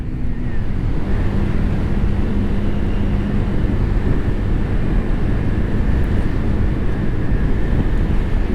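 A Zontes Mantis 125cc motorcycle is ridden at around 40 mph with the visor down. Its engine drones steadily beneath heavy, constant wind rush that stays loud throughout.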